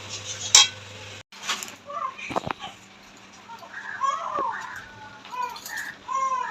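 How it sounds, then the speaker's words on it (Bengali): A metal spatula clatters and then stirs in a pan as ground spices, tomato paste and sugar are fried together for a jackfruit curry. It is fairly faint, with a few sharp scrapes against the pan and a soft background. "এবার একটু ভালো মতো কষাবো"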